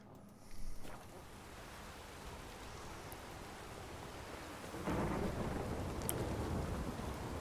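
A thunderstorm in the video game Witcher 3 gives steady rain hiss with a low rumble of thunder that swells near the end, continuous and fairly loud.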